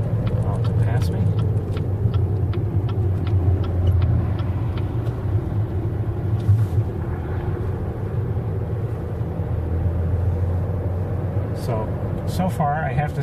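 A car rolls past on a road, a low rumbling engine and tire noise that swells and fades near the middle, heard from inside a vehicle pulled over to let it pass.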